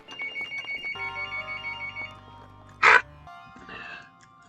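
A telephone rings in Zelda: Breath of the Wild, repeated electronic ring pulses against game music, followed by a short loud burst and softer tones, with no talk.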